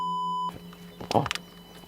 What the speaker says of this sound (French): on va mettre un bip